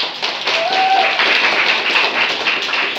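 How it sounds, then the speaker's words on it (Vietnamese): Classroom of students applauding together, a dense, loud, continuous burst of clapping close by that holds steady for a few seconds. "Vỗ tay."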